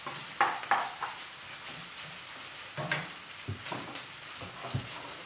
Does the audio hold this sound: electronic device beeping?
no